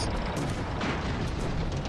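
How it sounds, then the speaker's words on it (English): In the airship battle game Airships: Conquer the Skies, a cannon is blown apart amid a dense, continuous din of booming artillery and crackling gunfire that stays steady and loud. "Oh, there goes the cannon."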